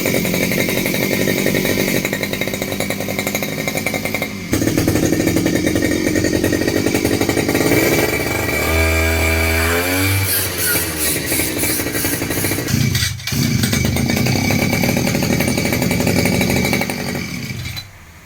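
A two-stroke brush cutter engine runs loudly and close, buzzing and revving up and down, then cutting off near the end.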